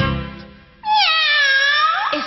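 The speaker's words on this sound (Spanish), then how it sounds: "De Doña Melina, que está maullando en la cocina." A cat meows in a Spanish-language children's song, one long, rising-and-falling meow sung out loudly and clearly after a brief lower-pitched musical lead-in.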